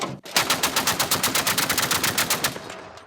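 A heavy anti-aircraft gun fires a rapid, steady burst of about twenty loud shots, close and sustained for a few seconds before stopping.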